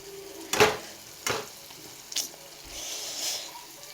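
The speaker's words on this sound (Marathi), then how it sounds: "आता हे असं मस्तपैकी हलवायचं ह्याच्यात पास्ता टाकून घेते" Pasta being stirred in a pan with Maggi masala, a few distinct scraping strokes over a low sizzle, close and moderately loud with no talking.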